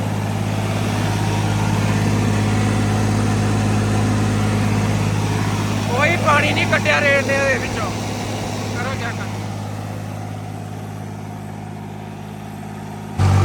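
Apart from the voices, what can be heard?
Holland tractor engine running hot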